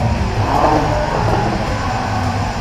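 A car engine revs loudly and close with the clutch pedal held down, a continuous heavy roar holding steady for a few seconds.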